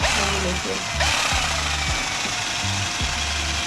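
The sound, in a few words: power drill blending pineapple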